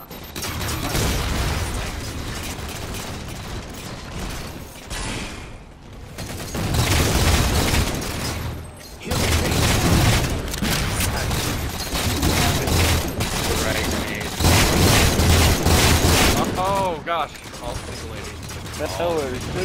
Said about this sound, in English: Stop throwing grenades, dude!